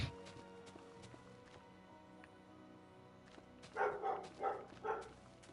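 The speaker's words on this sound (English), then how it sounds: "And now the dog's gonna bark." A dog in a Hogwarts Legacy building session gives about four quick barks near the end, fairly close, after a quiet stretch of faint background game sound.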